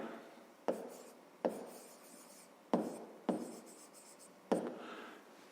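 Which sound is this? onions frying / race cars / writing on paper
writing on paper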